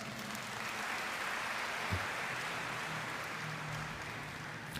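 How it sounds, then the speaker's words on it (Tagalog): A church congregation at a Filipino Mass homily breaks into sustained applause, a dense, even wash of clapping held for several seconds at moderate distance with no voices over it. "Pumalakpak ng malakas."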